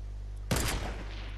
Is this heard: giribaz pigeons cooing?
no